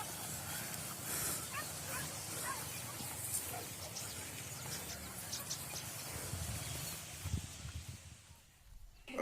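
Hunting dogs barking in open hillside country during a wild boar hunt in West Sumatra, scattered yips and barks mixed with outdoor rustle and people talking nearby.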